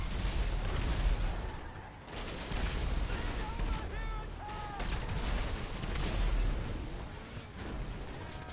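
Gunfire in GTA Online during a Cayo Perico heist setup, dense overlapping shots and blasts rolling on continuously for several seconds, loud and close, with chaotic battle noise throughout.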